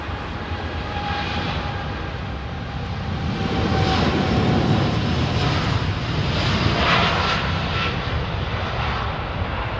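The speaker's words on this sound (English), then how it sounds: "to identify aircraft that are going over" A jet airliner departing Heathrow Airport runway 27R roars overhead, a broad, steady engine rumble that swells to a peak midway and holds loud without any voices.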